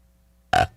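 A single loud, deliberate burp produced on command, a short throaty belch bursting out after half a second of near silence and fading quickly.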